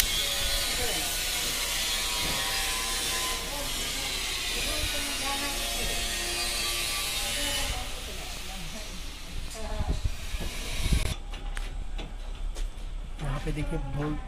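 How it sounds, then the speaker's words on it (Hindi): A power tool cuts an extra SIP wall panel on a Light House Project building site, giving a loud, sustained buzzing whine that drops off near the end, with someone talking over it. "यहाँ पे जो पैनल एक्स्ट्रा है उसको देखिए कैसे यहाँ पे कट किया जा रहा है"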